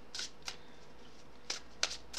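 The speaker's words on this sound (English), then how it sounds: "let me go ahead and shuffle this one more time" Tarot cards are shuffled in a handful of soft, brief riffling bursts, quiet and close, with short pauses between them and no voices.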